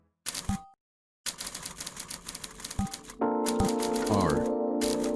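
Keys clack in quick bursts of typing separated by pauses, followed by a steady mechanical hum with a rising whine, close and fairly loud, with no voices.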